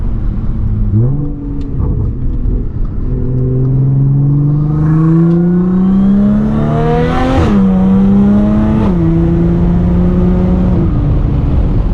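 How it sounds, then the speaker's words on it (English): An Audi S4 engine (430hp, AWD) accelerates through several gears, pitch climbing steadily then dropping at each shift, loud and close, with a brief squeal-like whine near the peak. "I can't get over the sound of this car"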